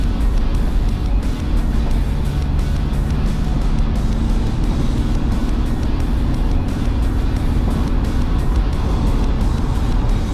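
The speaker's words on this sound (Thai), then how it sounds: "เดี๋ยวตอนนี้เราก็จะลอง จ้ำสะพานด้วยแล้วก็ใช้ความเร็วด้วยนะครับ" A Toyota New Fortuner with an upgraded suspension driving fast over a bridge, heard from inside as a steady, loud roar of engine and road noise that holds constant throughout with no break.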